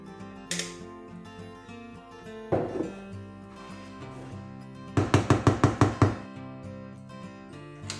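Homemade raspberry ice cream is scraped out of an ice cream machine bowl: scattered knocks and scrapes, then a quick burst of about seven sharp, clattering hits close by, with quiet gaps between and no speech.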